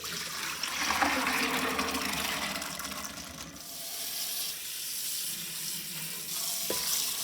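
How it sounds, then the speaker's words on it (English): Soaking water drains from navy beans into a kitchen sink, a steady splashing and trickling pour that briefly eases midway, then resumes. "The beans have been soaking overnight, so now I'll go ahead and drain all the water out."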